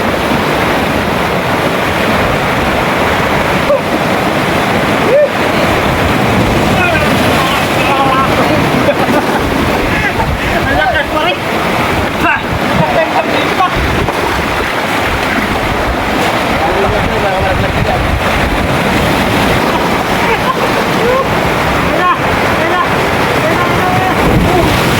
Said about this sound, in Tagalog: Grabing alon